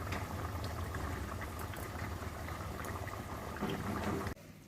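Soybean chhana muitha simmers in its sauce in a pot, a close, dense bubbling that continues evenly before cutting off abruptly near the end.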